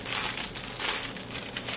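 Separate plastic bag holding a cape, handled and crinkled close by in a short, continuous burst of crisp rustling with small sharper crackles, no talking.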